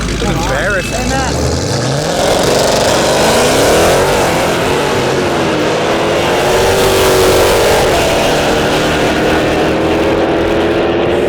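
Dodge Challenger race car revs hard for a burnout at a drag racing event, a loud close engine roar rising and falling in pitch and then holding a strained drone, with a voice talking over it.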